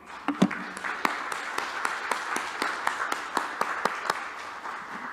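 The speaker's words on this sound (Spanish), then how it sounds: "por lo que agradecemos a Dios con un fuerte aplauso" A church congregation breaks into applause during a Spanish-language service, giving rhythmic, fairly steady clapping with sharp individual claps standing out, moderately loud and sustained throughout without talk.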